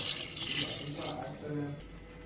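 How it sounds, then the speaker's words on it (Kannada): Five cups of water poured onto two and a half cups of rice with half-cooked chicken for biryani; a brief, faint, rushing splash. "ಎರಡೂವರೆ ಲೋಟ ಅಕ್ಕಿಗೆ ಐದು ಲೋಟ ನೀರು ಹಾಕೋತಾ ಇದ್ದೀನಿ"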